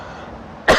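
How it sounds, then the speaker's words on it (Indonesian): One short, sharp cough, loud and close, cutting into a quiet room pause during a religious lecture. "Ini batuk-batuknya."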